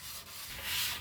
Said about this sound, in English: I'll give it a light sanding, mainly to take any sharp corners off the trim.